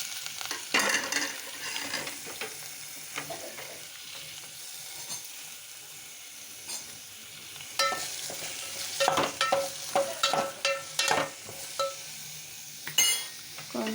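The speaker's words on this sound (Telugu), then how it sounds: "తరిగి పెట్టుకున్న ఉల్లిపాయలు వేసుకోవాలి" Chopped onions frying in oil for a chili and cucumber curry, giving a continuous close sizzle with clattering stirs of a spoon against the pan that grow busier and louder toward the end, no talk.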